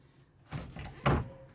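A glass shower enclosure door in a large open bathroom is slid and bumped into place, giving two dull knocks with rattly scraping between them, close and moderately loud, with no talk.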